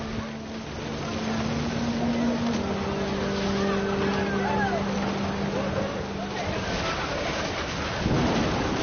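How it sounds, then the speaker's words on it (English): Steady heavy rain with deep rumbling thunder from the video game What Remains of Edith Finch, overlaid by sustained musical tones and voices throughout. "The thunder sounded much too close and full of angry power"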